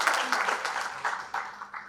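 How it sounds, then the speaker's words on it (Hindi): Audience applause for children at a Marwari Yuva Manch encouragement event in Guwahati, a steady wash of clapping from a crowd throughout. "एक बार जोरदार तालियां सभी बच्चों के लिए"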